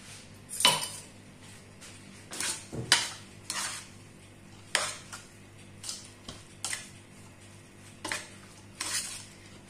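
A spoon clinks and scrapes around a bowl while a savoury Ramadan pastry filling is mixed with a quarter glass of olive oil, with repeated sharp taps and scrapes at an uneven rhythm, close and with no voices.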